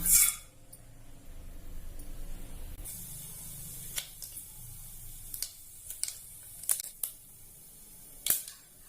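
Mustard seeds, urad dal and chana dal splutter in hot oil, sharp irregular pops and crackles bursting over a low sizzling hiss, with scattered louder snaps toward the end.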